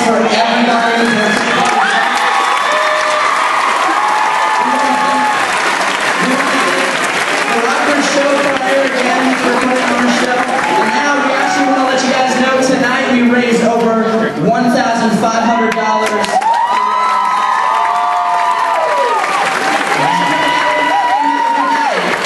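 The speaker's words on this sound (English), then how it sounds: "let's get a round of applause for everybody" A crowd at an awards event breaks into sustained applause and cheering, loud and dense throughout, with scattered shouts and voices rising above the clapping.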